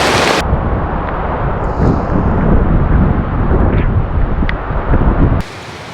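Heavy rain pours down at a stormy wild camp, a dense, loud roar of drumming water, likely on tent fabric, with wind buffeting, continuous throughout.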